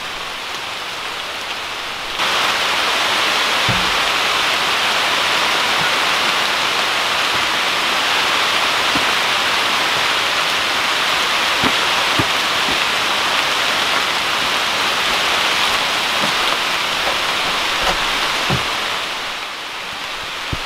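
Heavy rain falls steadily in an autumn storm at an off-grid log cabin build, a dense, loud hiss that starts abruptly and continues throughout with occasional closer drips and taps.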